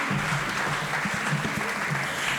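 Steady applause from a crowd at a church gathering, continuous and fairly even, with a faint tonal hum or voice lingering underneath.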